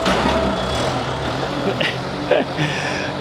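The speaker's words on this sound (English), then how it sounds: "around all the noisy cars and motorbikes" Road traffic rolls past on a residential estate, cars and motorbikes passing nearby in a continuous rumble with a couple of louder swells, heard while someone walks around outside.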